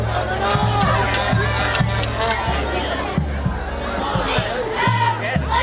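A large crowd at a high school football game, the County Line Showdown, makes a steady background murmur beneath close, continuous announcer commentary.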